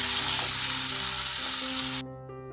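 Chopped tomatoes sauté loudly with onions, cumin and pepper in a pan for a black-eyed pea curry, a dense close sizzle that cuts off abruptly near the end, leaving only a faint low hum.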